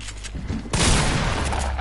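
SMG fire in a squads video game: a loud, sustained burst of rapid automatic shots bursting in suddenly partway through and continuing to the end, close and dense.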